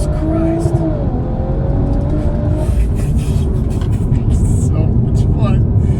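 A stage 3 tuned Audi S5 with a TTE710 turbo accelerates hard, its engine a steady, strong drone from inside the cabin, partly under people talking.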